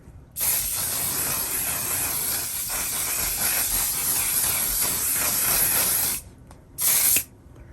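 A mattifying makeup setting spray hisses in one long steady burst across the face for about six seconds, close and loud, then stops briefly before a second short spritz.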